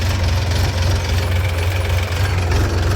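A farm tractor engine runs steadily close by, a loud, even low rumble with a slight knocking pulse and no breaks over a few seconds.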